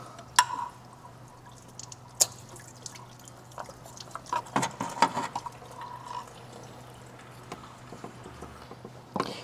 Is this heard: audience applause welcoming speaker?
no